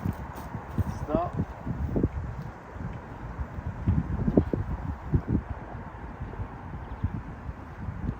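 Horse hooves clopping at a walk on the ground, an uneven series of close, moderate thuds under wind noise and rustling, with a person talking intermittently over them.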